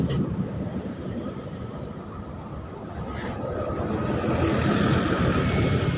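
A big truck passes in heavy traffic near the Soko traffic light in Magelang, Indonesia, a broad engine and tyre rumble that swells as it draws closer over busy road noise.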